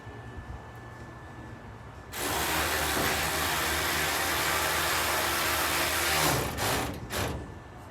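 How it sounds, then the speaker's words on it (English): A battery-operated quarter-inch drive ratchet runs in a loud, steady whir from about two seconds onward, close by, then breaks into a few short bursts near the end, with no talking. "I love these battery operated quarter drive ratchets"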